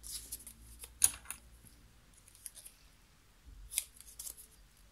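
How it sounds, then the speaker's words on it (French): Scissors snip away excess paper while making a small handmade mini album, giving a few crisp, close cuts with a sharp one near the start and another later, with quiet rustling between and no speech. "Donc, ici, vous allez couper le surplus,"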